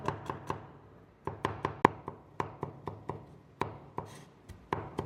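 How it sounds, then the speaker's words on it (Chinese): Garlic chopped with a knife on a cutting board, a close series of crisp, sharp taps in irregular bursts separated by short pauses, with no talking. "蒜头先片切之后再切碎。"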